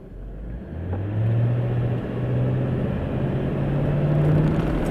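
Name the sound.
Mercedes ML430 accelerating, gearbox stuck in second gear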